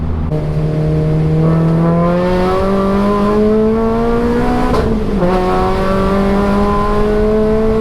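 Renault Clio Mark III track car with cup-style racing parts, its engine revving steadily upward toward 7000 rpm, a loud, close, rising harmonic drone that dips briefly before climbing again, with no talking.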